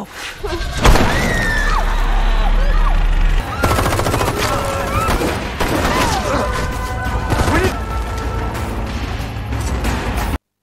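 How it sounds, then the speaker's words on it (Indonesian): Film gunfire rattles out in loud automatic bursts and single shots, mixed with shattering, crashing and heavy thuds in a chaotic action scene, with voices faintly audible among the blasts. "Juan dan Titi yang mendengar suara tembakan langsung menuju ke halaman"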